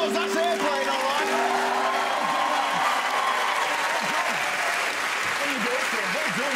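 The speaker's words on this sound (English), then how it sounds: "Give a round of applause, that's airplane, all right?" Studio audience applause on a comedy game show: steady dense clapping with cheers and whoops mixed in, while voices call out over it.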